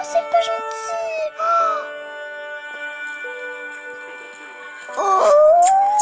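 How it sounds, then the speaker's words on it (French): A lone stray dog out on a street howls in long, wavering tones and breaks into whimpers and yips, loud and close; a few brief, faint bits of background talk may sit under it. "Oh, mon petit chien."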